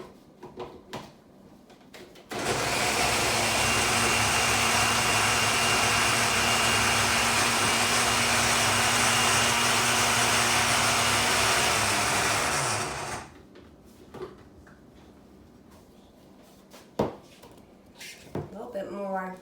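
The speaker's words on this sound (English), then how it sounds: "I'm just going to put it in my blender here and let that blend just a little bit." Blender whirring through peppers with chicken broth for a homemade dressing, a loud steady motor drone running about ten seconds alone, with kitchen clatter before and after.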